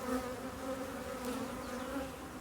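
Honeybees buzzing around ivy in bloom, a steady, dense drone of many insects close by, with wing hum holding level and unbroken throughout.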